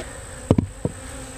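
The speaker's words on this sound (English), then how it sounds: "Let's get a lid back on these bees." Upset honey bees hum faintly and steadily around an opened hive, while a few sharp knocks, two close together and one a moment later, sound nearby.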